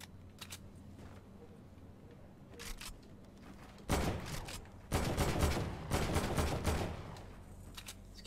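AK rifle gunfire in Fortnite on Nintendo Switch, rapid bursts of automatic shots in several clusters, first sparse and quieter, then sustained loud volleys close by.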